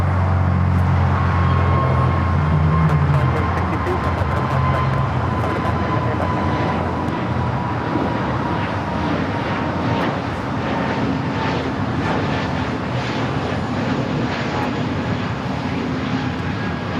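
A Qatar Emiri Boeing 747 takes off from runway 25 left at LAX, its jet engines a loud, steady roar that fills the whole stretch without a break.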